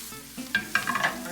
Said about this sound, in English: Let them start to sizzle and take on a little bit of heat, and they'll wilt down. We're gonna just stir them through.